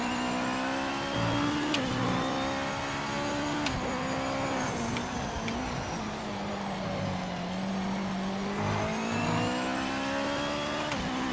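Race cars in the Gran Turismo video game lapping Daytona, a steady loud engine drone with pitch rising and falling through gear changes and corners, continuous and close without any talking.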